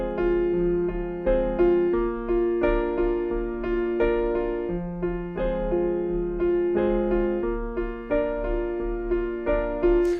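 Solo piano playing a song's chorus, a soft, sparse right-hand part of repeated notes moving back and forth over sustained low chords, at a steady, gentle tempo.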